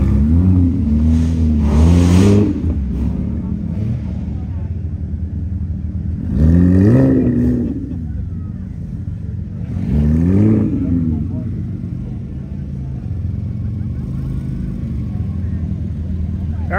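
Several parked cars rev their engines hard at a Cars and Coffee meet, three separate rising roars with descending falls and pauses between, loud and nearby, with people talking faintly around them.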